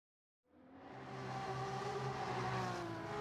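A BMW M3 Sport Evolution with an engine swap drifts around Suzuka in a racing video game. After a brief silence the engine starts up, then revs hard and holds a loud, sustained roar with a steady harmonic drone and a faint hint of tire squeal.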